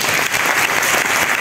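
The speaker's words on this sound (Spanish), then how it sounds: "Felicidades y un aplauso para ellos," Concert audience applauding at the San Marcial festival in Femes, Lanzarote: dense, steady clapping from a large crowd, loud and continuous with no gaps.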